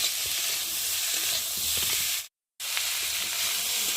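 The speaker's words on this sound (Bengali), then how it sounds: "আর এখন দিয়ে দেবো মটরশুঁটি। যতক্ষণ না মশলাটা কাঁচা গন্ধ যাবে ততক্ষণ মশলাটা ভালোভাবে কষিয়ে নেব।" Spice paste and green peas sautéing in a pan for a cauliflower fish curry, an even steady sizzle and hiss that drops out for a split second of silence before resuming.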